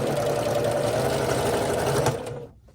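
A sewing machine stitching quilt pieces together for a herringbone quilt, a close, continuous rapid mechanical whirr that runs steadily for two seconds and then stops, no speech.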